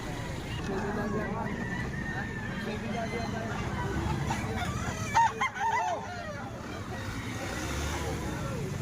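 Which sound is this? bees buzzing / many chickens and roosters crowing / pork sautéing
many chickens and roosters crowing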